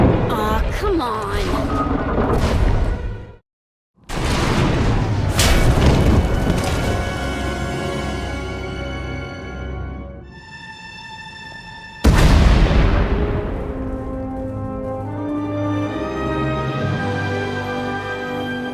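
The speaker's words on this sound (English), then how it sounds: "We heard explosions." Heavy booming explosions in the video game Star Wars: The Old Republic, loud rumbling blasts with a brief silent gap and a sudden fresh burst later, mixed with game sound effects.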